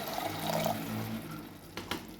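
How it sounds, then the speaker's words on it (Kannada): A steady stream of water pours into a pan for making upma, continuous and close, with a couple of brief clinks near the end. "ನೀರು ಎಷ್ಟು ಬೇಕಷ್ಟು ನೀರು ಹಾಕೊಳ್ತೀನಿ"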